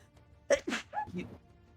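A single sharp sneeze bursts out close by, followed by a brief muffled voice afterward.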